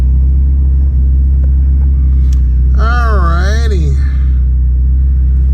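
A Chrysler Conquest engine runs after lifter replacement, a loud, steady low rumble that holds throughout while someone speaks briefly over it.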